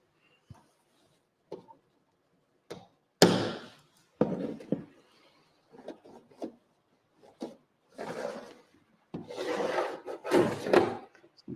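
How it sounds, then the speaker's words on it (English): The end of a model train rail is tapped down to seat a track joint. Several sharp, irregular knocks and short scraping rubs sound up close and fairly loud, with quiet pauses between them and no talking. "I'm just going to tap the end of the rail there just to push it down so it makes a good joint"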